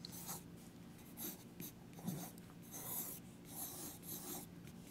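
A pencil sketches quickly on paper to rough out a pose, making close, soft, scratchy strokes in irregular bursts with brief pauses between them.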